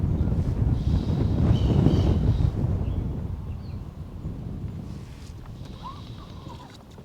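Wind buffets a fishing boat out on open water, a strong low rumble of gusts against the microphone that swells early on, then eases to a steadier, softer rush.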